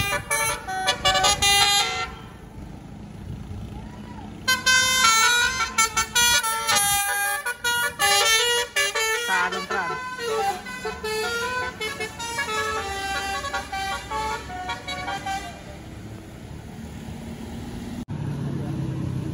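Buses on the road near Pangandaran blare their tuneful telolet horns in rapid melodic bursts, loud and close, repeating over the roar of passing traffic.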